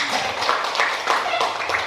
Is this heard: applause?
yes